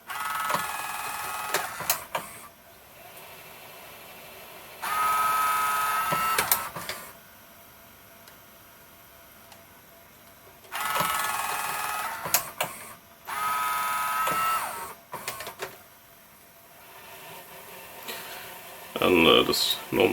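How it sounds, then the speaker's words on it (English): A JVC HR-S8600 Super VHS VCR fast-forward seeking, its dynamic drum whirring and ticking in several short bursts with quiet mechanical clicks between them, heard up close with no talking. "if I go into seeking fast forward, you can hear the dynamic drum moving"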